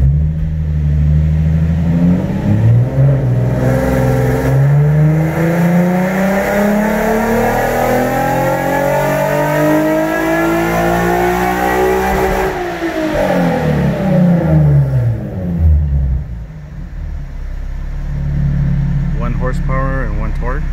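A turbocharged Nissan 370Z with a low-boost BP kit roars on a dyno, revving loudly and climbing steadily in pitch for about twelve seconds, then dropping off as the throttle closes, with a faint clatter at the end.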